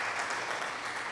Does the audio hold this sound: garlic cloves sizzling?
no